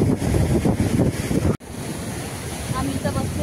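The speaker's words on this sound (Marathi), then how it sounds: "या लाटा कसल्या उसळत आहेत बघा" Sea waves crash and surge on the rocky shore at Malvan, a loud close roar of surf with wind buffeting the microphone, then continuing more softly.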